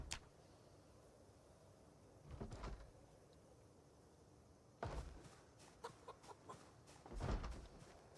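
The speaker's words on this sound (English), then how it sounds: "How many chickens we got going?" Chickens in Project Zomboid give a few scattered clucks in short bursts over a quiet, low ambient background, with long gaps between calls.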